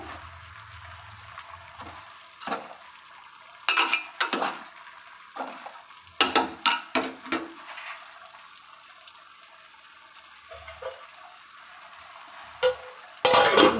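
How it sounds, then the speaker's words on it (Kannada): Chicken fries in a pan until its released water dries off for chicken sambar, a soft steady sizzle under bursts of metal spoon scraping and clattering against the pan, with long quieter gaps and no talking. "ನೋಡಿ ಈ ಥರ ಚೆನ್ನಾಗಿ ಫ್ರೈ ಆಗಬೇಕು ಚಿಕನಲ್ಲಿರೋ ನೀರೆಲ್ಲ ಬಿಟ್ಬಿಟ್ಟು ಆ ನೀರೆಲ್ಲ ಚೆನ್ನಾಗಿ ಡ್ರೈ ಆಗಿಬಿಡಬೇಕು"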